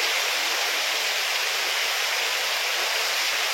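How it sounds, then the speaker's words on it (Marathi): Heavy rain lashing down in strong wind outdoors in a village, a steady dense hiss that fills the whole stretch without any break, loud and close. "जोरदार पाऊस आलाय, जोरात वारा पण."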